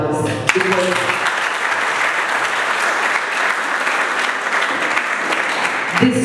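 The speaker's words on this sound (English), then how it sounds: "I request that we also give them another hand of applause" Applause from the audience at a movie premiere, a loud, continuous wash of many hands clapping that holds steady for several seconds, with brief voices at the very start and end.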